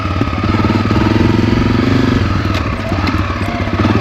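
A Honda CRF250F trail bike engine runs steadily and loud up close, a continuous chugging mid-range drone with a rapid clattering pulse and no voices.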